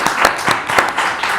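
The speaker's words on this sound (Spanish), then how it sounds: "Fuerte el aplauso para Ale." An audience applauds at a talk-show style conversation event, a brief burst of clapping with a few louder claps standing out, moderately close and steady with no talk over it.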